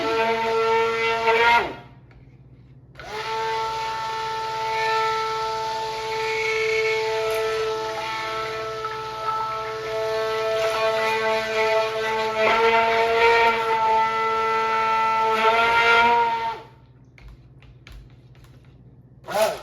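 A motorized blender whirs loudly with a steady mechanical whine while mixing soap of olive oil, shea butter, coconut oil and castor oil, cutting out briefly and then running again for a long stretch before stopping.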